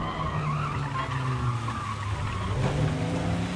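Tires skid and squeal from a car in the video game Mafia Definitive Edition, a sustained whining screech over a steady engine drone that holds loud for the whole stretch with no talking.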